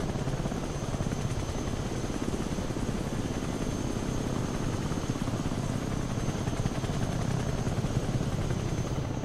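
Steady, continuous rotor and engine drone of an AH-1Z Viper attack helicopter in the real-time strategy game Broken Arrow, loud and close, holding constant throughout with no talk.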